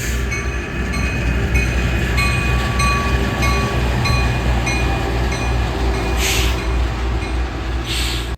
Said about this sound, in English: we see a eastbound geometry car